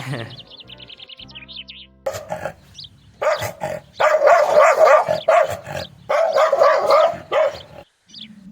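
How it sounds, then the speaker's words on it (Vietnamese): Two farm dogs in the Vietnamese countryside bark repeatedly and loudly in close, uneven volleys, with a few bird chirps at the start and occasional growls between barks. "Ở đây thì có thêm 2 chú chó nữa các bạn"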